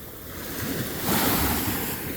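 Ocean surf washes over a shelly beach in a steady broadband rush, swelling louder midway as a wave rolls in, with wind buffeting the microphone.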